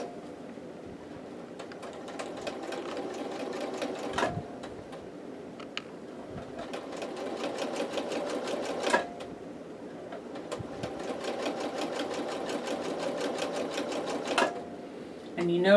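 Sewing machine stitching an appliqué along a drawn line, running in steady bursts of rapid needle clatter with short pauses between runs, close and clear, with no talk in the pauses.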